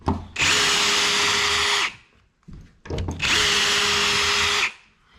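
A hole saw on a power drill bores a hole for a door lock in two loud sustained runs of about one and a half seconds each, whining and grinding, separated by a brief pause with small rattles.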